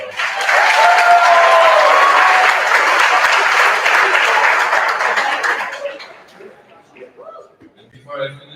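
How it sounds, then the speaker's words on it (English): A graduation crowd applauds an absent award winner, loud, dense clapping that holds steady for several seconds, then fades away into quieter room noise. "please give her a big round of applause"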